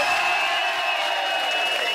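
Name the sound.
studio audience cheering for the show's host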